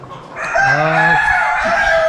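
A loud, close rooster crow rising and holding at a large free-range desi poultry farm in Nashik, with other chickens clucking faintly around it.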